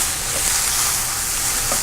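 Onions and celery sauté in a hot pan, giving a steady, close, dense sizzling hiss that runs evenly throughout with no talking.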